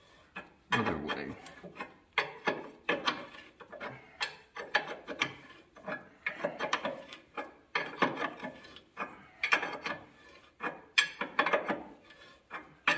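Hand socket wrench ratcheting on a Peterbilt truck axle, with repeated bursts of clicking ratchet strokes separated by short pauses, close and fairly quiet, no talk.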